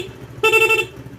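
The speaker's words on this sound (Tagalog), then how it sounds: "Busina." A Rusi Flex 125i motorcycle's horn gives one short, loud, steady toot of about half a second, heard close up against a low idling hum.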